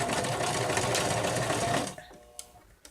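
Sewing machine stitching fabric for a stuffed bear, a steady fast mechanical whir for about two seconds that stops abruptly, followed by faint handling clicks.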